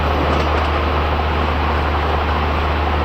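A simulated Indian passenger train with twelve coaches runs in a train simulator game, giving a steady, continuous low rumble and hum with no pauses.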